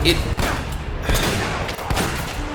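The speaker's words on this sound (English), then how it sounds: "I think the weapon is called a dragon sniper." A dragon sniper rifle fires in the video game Uncharted, with several muffled booming shots and thuds spread across a short, busy stretch of game noise, under someone talking.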